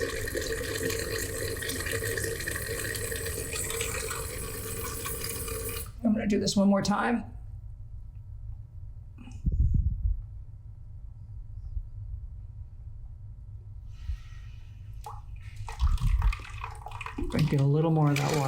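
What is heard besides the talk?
water draining from an air compressor tank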